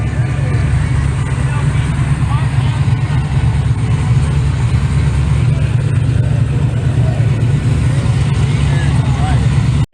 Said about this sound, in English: A big block Chev action.